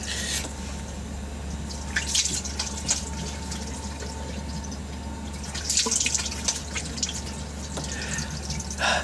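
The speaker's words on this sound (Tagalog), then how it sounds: "So maghihilamos po tayo ngayon. Pero sobrang lamig ng tubig dito." Cold tap water runs and splashes as someone washes their face at a sink, with drips and a few louder splashing bursts over a steady low hum, close and moderately quiet.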